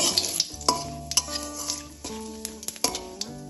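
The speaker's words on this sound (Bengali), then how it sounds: "ফোড়নটা তেলের সাথে একটু ভালোভাবে নাড়াচাড়া করে নেব।" Whole dried red chillies, bay leaves and cumin seeds stirred in hot ghee and oil, a spoon scraping and clinking against the pan in a few distinct strokes over a steady close sizzle, with no voices.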